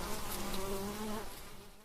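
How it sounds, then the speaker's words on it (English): Honeybees buzz at a hive in a garden setting, a dense continuous drone of many wings close by and fairly loud, holding steady throughout with no voices. "Forager bees leave the hive to collect pollen and nectar from flowers"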